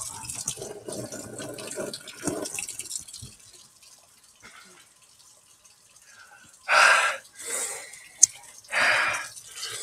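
Tap water runs in three short, fairly loud gushes near the end, each lasting under a second, after a stretch of quiet, low background noise.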